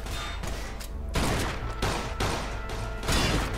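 Rapid, close gunfire from Mafia II, coming in repeated loud bursts with short gaps between volleys, dominating the whole stretch with no talking over it.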